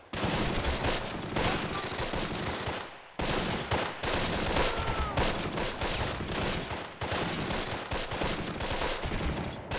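Heavy, sustained gunfire in the World War II strategy game Close Combat, a loud, nearly continuous barrage of overlapping rifle and machine-gun shots with only brief gaps.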